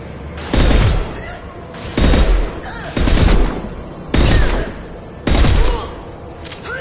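Five loud bursts of heavy weapon gunfire from the Mass Effect 2 video game, each roughly a second long and set about a second apart, with a quieter game background between the bursts.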